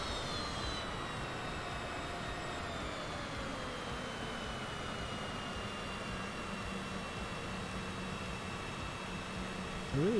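A steady, fairly quiet jet-like whine and hiss from an aircraft taxiing in Microsoft Flight Simulator, holding a constant drone with slowly drifting tones and no talking.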